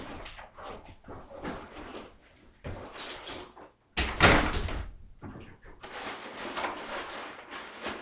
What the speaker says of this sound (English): I can't open this door if you're sitting right there.